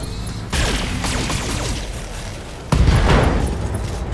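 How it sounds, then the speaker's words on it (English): Heavy explosive bursts from an ammunition explosion in the BattleTech video game, two sharp loud onsets each followed by a rumbling, crackling tail of blasts. "Ammo explosion. Reporting critical hit."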